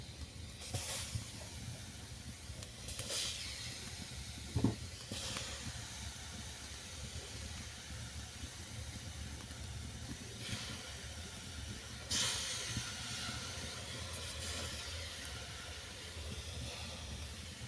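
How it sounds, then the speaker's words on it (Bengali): Eggplant sizzling in a hot kadai: a constant hiss broken by several brief surges of crackling sizzle, heard up close with no one talking. "বেগুনটাকে কড়ার মধ্যে আমি দিয়ে দিচ্ছি।"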